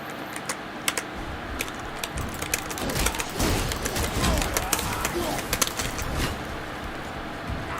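Computer keyboard keys tapped in rapid, irregular clicks during a God of War session, mixed with dense game sound and background noise.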